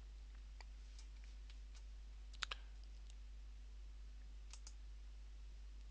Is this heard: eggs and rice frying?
no